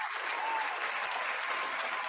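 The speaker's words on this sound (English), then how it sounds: "Got to give you a round of applause again." Crowd applause, a dense continuous wash of many hands clapping, heard fairly faint and even throughout.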